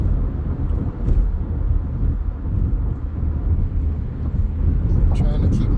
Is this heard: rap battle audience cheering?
no